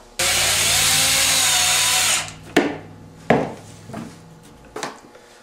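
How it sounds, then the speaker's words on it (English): Power drill driving self-tapping screws through woven wire hardware cloth into a metal pipe, a loud two-second whir followed by several sharp metallic clanks and rattles. "I'm just going to put a couple of self-tapping screws right through this woven wire, right down into this pipe"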